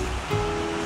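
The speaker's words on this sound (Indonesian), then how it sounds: "Okay, ada bunyi ombak lagi di sini." Ocean waves wash onto the shore at Tanjung Lipat beach on a Sunday morning, a steady rushing surf with a slight swell partway through, heard close and alone without talk.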